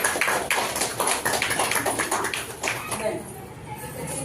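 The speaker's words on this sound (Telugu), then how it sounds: "అందరూ ఒకసారి క్లాప్స్" A group claps together at a Telugu anklet puja celebration, a brisk burst of hand claps that fades to quiet after about three seconds, with voices around.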